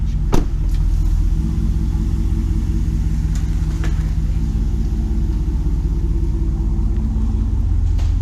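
A 2019 Ram Rebel pickup truck idles with a Carven Competitor exhaust, a steady low rumbling drone held throughout, with a brief sharp click near the start.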